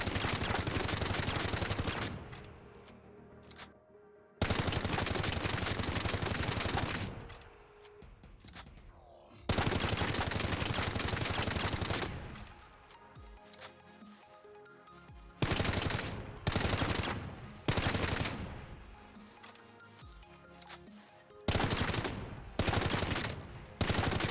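Automatic weapons fire in Ring of Elysium, loud close bursts of rapid gunshots, several long strings and then shorter repeated bursts separated by brief gaps, with no talking.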